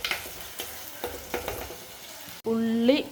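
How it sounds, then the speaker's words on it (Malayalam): Onions for a pepper fish curry sauté quietly in a pan. Soft scraping strokes from stirring tap through the first two seconds, then a louder sustained sizzle with a faint tonal ring takes over near the end. "ഉള്ളി നന്നായിട്ട് വഴണ്ട് വന്നിട്ടുണ്ട്."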